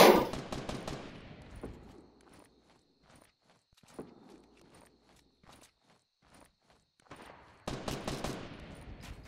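Gunfire and sniper shots in the video game Fortnite: rapid bursts of crackling shots open and close the stretch, with scattered single shots and footsteps in a quieter middle section, no talking.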